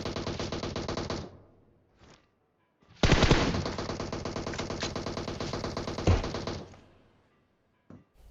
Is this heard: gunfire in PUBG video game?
yes